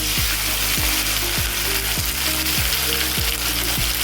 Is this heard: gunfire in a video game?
no